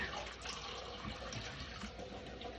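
Warm water pours into a pan for a roux, a soft continuous gushing, splashing flow heard up close and alone for a few seconds.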